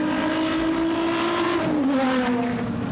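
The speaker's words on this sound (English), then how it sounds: "That straight six never fails to disappoint" A BMW 635 race car with a straight-six engine runs past at Goodwood's Members' Meeting, a loud steady engine note that dips in pitch as it goes by, with no talking.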